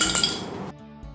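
Ice cubes clink and rattle as they drop into a glass, a brief bright jingle that quickly fades to quiet.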